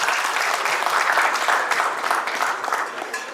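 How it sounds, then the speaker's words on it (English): An awards event crowd in Dubai applauds a panel with loud, sustained clapping that stays full and even, easing slightly toward the end. "So let's give a big hand to this panel."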